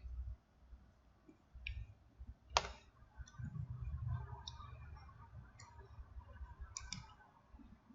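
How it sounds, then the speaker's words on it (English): A computer mouse gives a few faint, sharp clicks spaced irregularly, one standing out louder, over a quiet low room hum. "Click the download button."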